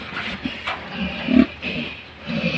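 A native piglet oinks and grunts nearby in a few short, low snorts against a steady background hum.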